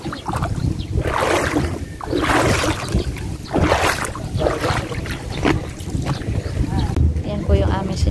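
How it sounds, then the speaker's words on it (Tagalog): A small wooden outrigger boat (bangka) runs along the sea coast at General Nakar, with steady wind buffeting and rushing water throughout and voices talking over the noise. "Yan po yung aming sinakyan na bangka."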